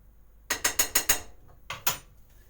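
A whisk working flour into melted butter for roux in a pan, five quick rhythmic metallic scrapes, a short pause, then two more, close and moderately loud.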